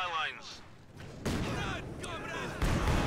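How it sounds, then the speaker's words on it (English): Incendiary artillery barrage in the Company of Heroes strategy game, heard as rolling booms and crackling blasts in quick succession, fairly loud and dense, with a few bursts landing close together. "We do have a very well-timed incendiary artillery barrage."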